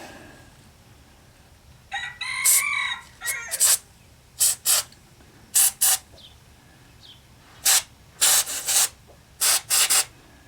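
Short spray bursts of lubricant onto an HF transmission jack, about eight sharp hissing puffs in irregular clusters, close and fairly loud, with a few faint rubbing sounds in between and no talking.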